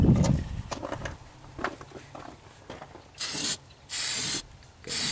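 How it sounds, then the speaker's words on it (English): Two loud bursts of aerosol rust protection coating being sprayed on a Nissan 240SX in wind, each about half a second long, after a stretch of faint rustling and handling noises. "Spray in between the wind gusts."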